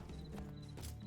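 Horse hooves clip-clopping in the online game Mortal Online 2, a steady close rhythm of hoof falls running continuously through the short moment with faint game ambience behind.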